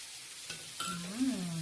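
Sauce poured into a hot pan at a Korean barbecue party, with a soft stirring sizzle under a low hum, a brief splash and faint background voices.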